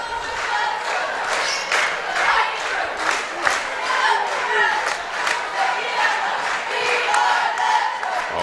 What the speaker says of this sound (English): Oh, got a little cheering action going on.